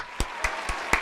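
Four slow, separate hand claps, evenly spaced and close by, against a quiet room background.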